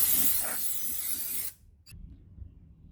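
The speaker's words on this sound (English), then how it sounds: "Now I'm just gonna spray it with some brake clean" Brake cleaner sprays in a steady, loud aerosol hiss for about a second and a half during a Jeep JL Wrangler transmission fluid and filter service, then cuts off, leaving quiet handling noises.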